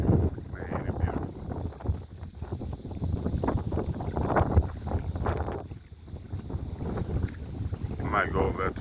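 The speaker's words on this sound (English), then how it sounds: "It's windy out here." Gusty wind buffets the microphone outdoors on a rainy morning of fishing from a boat, roaring and easing in waves, with someone talking beneath it.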